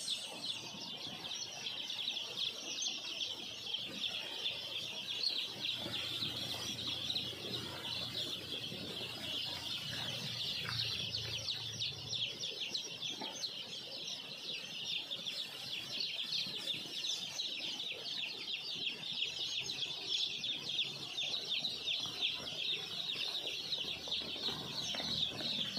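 A crowd of day-old chicks in a heated brooder peep and cluck nonstop in a dense, steady chorus, with occasional wing flutters mixed in.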